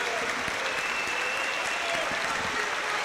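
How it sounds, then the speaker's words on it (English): An indoor crowd at a high school state title celebration applauds steadily and densely for the whole clip, fairly loud and continuous. "let's give a big round of applause to the students that came up to Murfreesboro"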